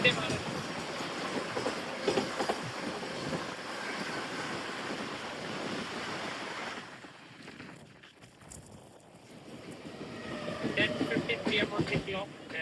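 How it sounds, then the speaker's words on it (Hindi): Devagiri Express train rolling into Thane railway station, a steady rumble of wheels and carriage noise with a brief dip in the middle before it swells again. "On the clock and we are entering at Thane railway station."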